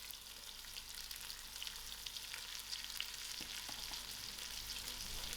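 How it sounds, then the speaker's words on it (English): Onions and leek fry in hot oil, a steady close sizzle with faint stirring scrapes and no voices. "I'm going to put in my onions to fry. And together, I'm going to add in my leek."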